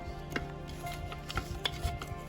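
Soil around a potted bougainvillea plant is loosened and stirred, producing faint, short scraping taps at an irregular rhythm with no voices.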